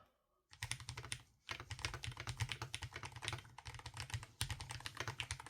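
Brisk typing on an EPOMAKER Magforce 68, a compact full-aluminium keyboard with magnetic Jade switches, sets off dense, rapid, close clacks. The keystrokes run continuously, with two short pauses, and no voice is heard.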